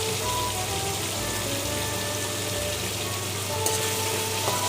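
Mutton with ginger-garlic paste sautéing in a pan for a Bengali mutton kosha, a steady, continuous close sizzle that holds evenly throughout with no voices.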